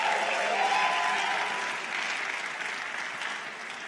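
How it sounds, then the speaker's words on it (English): Audience applause at a university entrepreneurship pitch competition on campus, a steady wash of clapping from a seated crowd that holds evenly and then tapers slightly toward the end. "Give a round of applause for that."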